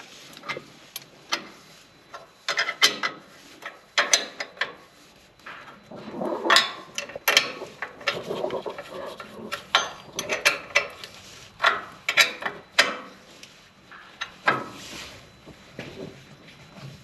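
Ratcheting mechanism clicking in quick, irregular bursts while a sensor bracket on farm planter equipment is snugged down, close and moderately loud with no speech.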